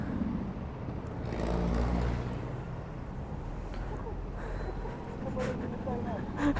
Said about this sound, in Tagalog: Napaka-traffic sa Antipolo,